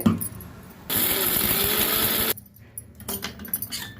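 A kitchen mixer grinder runs on roasted peanuts and cumin in one loud, steady whirring burst of about a second and a half, then cuts out, followed by light handling clatter.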